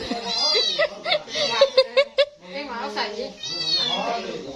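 A cat meows several times in a quick run of short, bright cries, with people talking loudly around it before and after.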